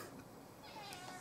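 A house cat meows faintly in a quiet indoor room, one or two soft, brief calls sounding alone with no talk over them.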